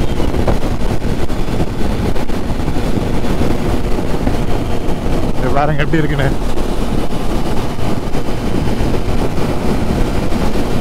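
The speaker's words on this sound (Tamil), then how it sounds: "நல்ல காத்து அடிக்குதுங்க, இந்த எதிர்காத்து நல்லாவே ஃபீல் பண்ண முடியுது" Strong headwind buffets the microphone while riding a Triumph Street Triple motorcycle, producing a loud, continuous roar of wind noise throughout, with a voice speaking briefly over it.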